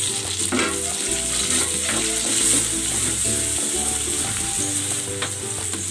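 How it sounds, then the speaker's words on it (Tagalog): Garlic and onion sauté in a hot pan with a loud, steady sizzle close by, broken by scraping stirs and rattling, with no voices. "Magigisa na ako ng bawang. At ng sibuyas."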